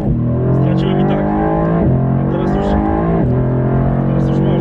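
A limited Mercedes-AMG GT R Pro pulls away from a red light, its engine loud and close, revving up through three rising pulls with brief dips between them as it accelerates.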